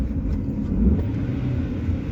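An AWD Honda Civic with a B-series engine swap accelerates, a low, steady engine rumble heard from inside the car at moderate level, continuous and without talk.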